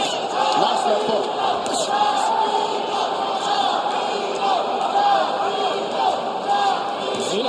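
A boxing arena crowd roars steadily for fighter Molina in his home state, a loud continuous wash of cheering and shouts with voices carrying through it.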